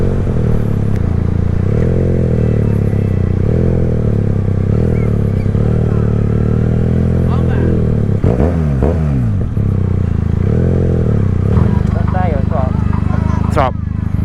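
A QJMotor SRK 400 or SRV 400 motorcycle engine drones steadily while riding, rising and falling in pitch through several rev swells, with voices talking over parts of it and a sharp clatter near the end.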